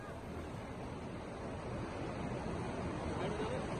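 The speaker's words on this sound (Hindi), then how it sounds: "किस तरह से चंपावत में पानी के तेज बहाव में ये गाड़ी बह गई" Strong floodwater current in Champawat surges past with a steady, loud, broadband rushing roar, the kind of flow that swept a car away, continuous and unbroken with no voices.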